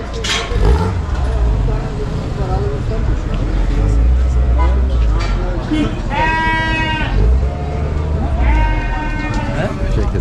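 Sheep bleat at a Kurban sacrificial livestock market in Kadirli, Osmaniye: two long, wavering bleats stand out over steady crowd chatter, voices and a low background rumble.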